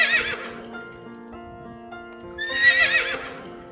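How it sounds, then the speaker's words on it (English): A horse whinnies twice in quick succession, a loud shrill neigh opening and a second rising whinny near the end, with a low harmonic hum holding between them. "horse"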